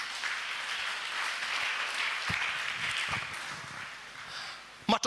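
A church congregation claps in praise of Jesus, a sustained spread of many hands at moderate level that thins toward the end before a couple of sharp knocks.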